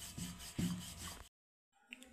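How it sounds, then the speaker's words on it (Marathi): Methi aloo paratha dough being rolled thin like a chapati with a rolling pin, with the edges pressed thinner than the middle; soft, repeated rubbing strokes close by, then a brief pause before faint rolling resumes. "तर बघा चपातीसारखं आपल्याला लाटून घ्यायचं आहे."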